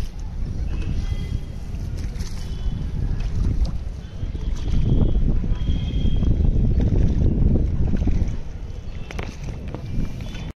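Wind gusting steadily outdoors on a foggy, overcast day, with low rumbling buffets on the microphone that swell in the middle and ease off toward the end; it holds continuously without pauses and no clear speech is heard.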